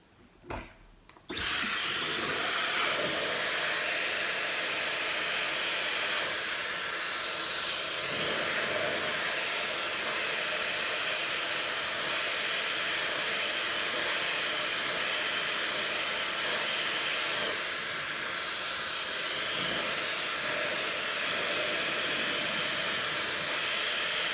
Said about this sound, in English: And then I'm just going to blow dry it down.